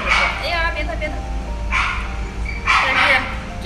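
A pregnant Shiba Inu female, fifty days along, gives a few short yips and whimpery barks close by, in three brief bursts over steady background noise.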